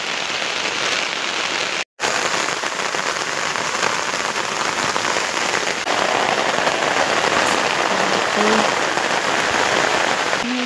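Heavy rain pours steadily onto a field of crops, a dense, loud hiss with scattered drops close by, broken by one brief silent gap near the start.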